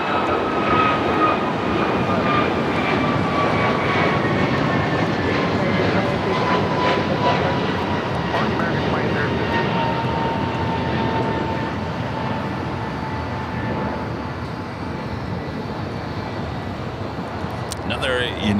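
Jet engines of a 22-year-old United Boeing 757 at Los Angeles LAX, a steady loud broadband roar with a whining tone that slowly drops in pitch as the airliner passes, filling the whole stretch.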